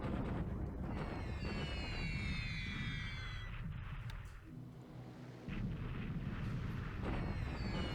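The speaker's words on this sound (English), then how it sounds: "It looks like they're bombing the airfield." Bombs exploding on an airfield in a WWII strategy video game set in March 1942, with P-38 fighters overhead: continuous rumbling blasts and crackling, high whistling streaks, a brief dip partway before the loud explosions resume.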